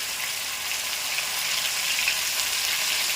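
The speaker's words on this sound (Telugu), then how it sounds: "ఇప్పుడు వేపేసుకోవాలి. చక్కగా ఎర్రగా వేపేయాలి." Bitter gourd frying in hot oil, a steady close-up sizzle and crackle that holds evenly throughout with no voices.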